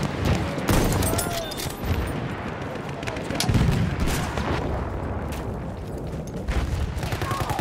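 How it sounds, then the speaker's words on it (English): Machine gun fire in the Battlefield 1 video game, bursts of shots and booming explosions crackling continuously for several seconds, loud and dense, with distant battle noise underneath. "Machine gun, hostile!"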